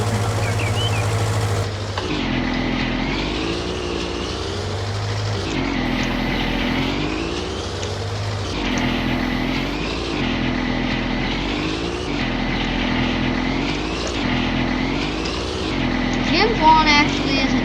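A garden tractor mower engine drones steadily while mowing around buildings, its pitch swelling and dipping in a repeating cycle as it works, loud and near with no talk.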